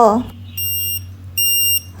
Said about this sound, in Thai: เวลาที่ของหายสามารถเรียกหาด้วยการส่งเสียงดัง